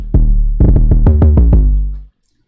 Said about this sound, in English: And then at the end I just did a little roll.